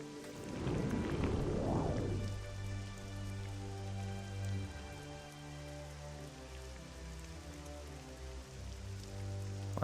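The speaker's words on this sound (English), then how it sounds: "it's raining and foggy" Continuous rain falls in the fantasy role-playing game Morrowind, a soft even patter under low droning game music, with a brief swelling whoosh early on and no talking.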